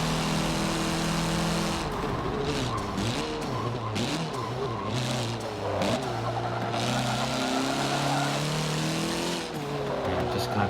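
Mitsubishi Lancer EVO race car in Forza Motorsport 7, its engine revving loudly and shifting pitch through gear changes, with tire squeal and skidding throughout and a commentator talking over it.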